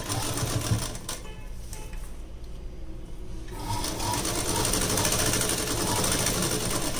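Sewing machine stitching an old blouse alteration, a steady close rapid whirring and clattering run that briefly eases and then picks back up.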